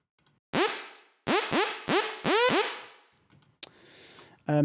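Loud synth lead notes with sharp upward pitch swoops, five bursts in quick succession, followed by a brief noisy hit and a buzzy tail.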